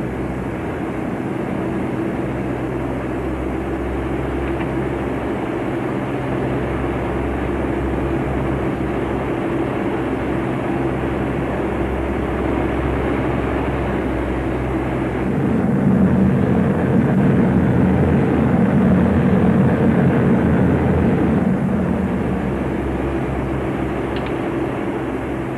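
Several propeller airplanes of a military squadron fly together in formation over a blacked-out Los Angeles at night in a 1941 film, a steady loud drone of engines that swells slightly louder midway, with no talk.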